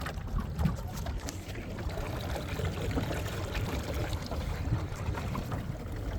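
A small homemade boat powered by an Optima battery cruises on a lake, with a steady low rumble and constant water wash against the hull, no voices.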